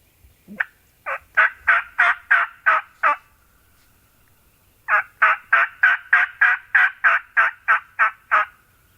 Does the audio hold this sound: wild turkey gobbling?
yes